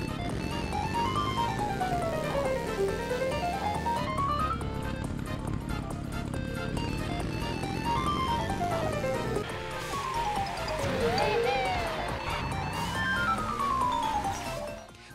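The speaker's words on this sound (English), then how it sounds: "the road becomes the instrument itself" Mario Kart 8 track where the road itself acts as a musical instrument, rising and falling chromatic scales sweep repeatedly over a busy, steady game soundtrack with driving and effect noises.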